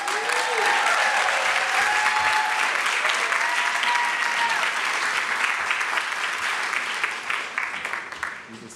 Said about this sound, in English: let's give a warm round of applause for Allison Junt.